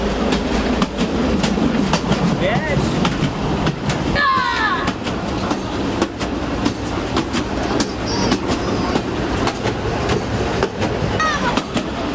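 A 100-year-old narrow-gauge railway carriage on a private railway rumbles along with rhythmic wheel clatter and occasional squeals, the noise steady and close throughout.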